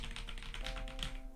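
Rapid close keystrokes on a mechanical keyboard with linear switches, a steady patter of soft, even clacks lasting just over a second with no other sound.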